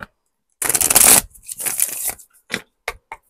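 Tarot cards being shuffled up close, a burst of riffling followed by scattered flicks and taps of cards being handled.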